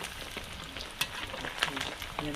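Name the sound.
frying fish until crispy and golden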